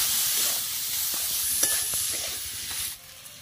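Meat filling seasoned with salt, turmeric and chili powder sizzles and is stirred in a pan, a steady close frying hiss with scraping stir strokes, fading near the end.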